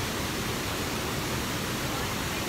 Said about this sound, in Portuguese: É cachoeira